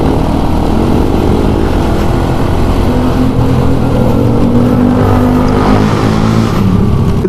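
A 16-year-old Honda Wave 100R, a 100cc underbone motorcycle, accelerates along a highway, its engine whining and climbing steadily in pitch over loud close wind and road noise, with no talk.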